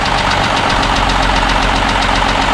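A 1959 Mercedes-Benz 220S W180 Ponton idles steadily up close, its engine throbbing with a loud, even knocking pulse and a rough mechanical clatter that never lets up.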